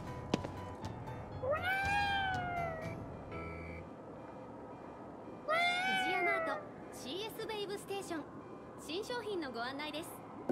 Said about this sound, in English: Is that a cat? Technically, it's a yokai.